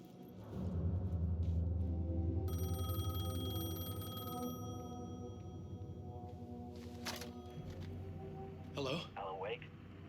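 A payphone ringing in the video game Alan Wake, a tonal bell-like ring over low rumbling ambience, with a voice speaking over it toward the end.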